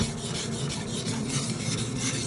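Hatchet blade drawn across a fine 2000-grit sharpening stone, a steady close rasping scrape in quick repeated strokes, with no voices.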